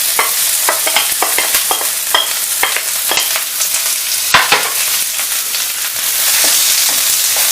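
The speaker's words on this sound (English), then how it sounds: "it's on a high heat because stir fries and Chinese cooking is always usually done on a high heat and done quickly" Onions and garlic sizzle loudly in a hot wok on high heat for a Chinese chicken noodle stir fry, a steady close hiss broken by scraping stirs.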